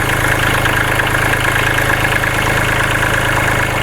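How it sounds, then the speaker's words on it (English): A Kubota B2650 compact tractor's engine idles close by, a loud, steady diesel rumble with an even mechanical knock and no voices over it. "we've let the tractor run a while"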